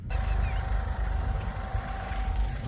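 A tractor engine drones steadily nearby during field sowing, a continuous low rumble with a faint whine and no breaks.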